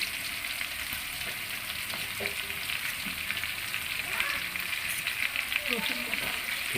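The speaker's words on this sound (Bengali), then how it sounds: "পেঁয়াজটা একটু ভেজে নিতে হবে ঠিক আছে কাঁচামরিচ দিলাম" Sliced onions and green chilies fry in a pan with a dense, continuous sizzle and the occasional scrape of stirring; a faint voice sits low in the background.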